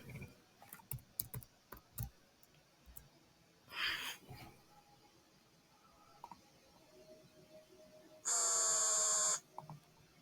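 An alarm sound effect previewed in Roblox Studio plays once near the end as a loud, steady buzzing tone lasting about a second, after scattered keyboard typing and mouse clicks.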